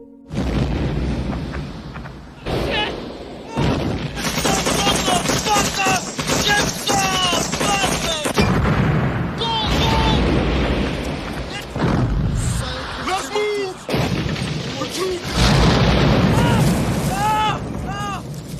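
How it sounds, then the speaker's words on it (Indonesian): Loud bursts of bomb explosions, booming blasts and gunfire from a Vietnam War film battle scene, repeated throughout, with shouting voices and dramatic sound effects mixed in. "langsung menghujani tentara Amerika dengan bom dan tembakan"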